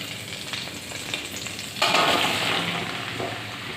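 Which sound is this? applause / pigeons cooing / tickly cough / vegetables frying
vegetables frying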